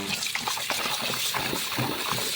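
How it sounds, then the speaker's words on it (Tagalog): Chicken gizzards being washed by hand in a bowl of water, a steady wet swishing and sloshing with small splashes throughout, close and moderately loud with no talking. "Tapos hugasan natin ng mabuti para hindi malansa."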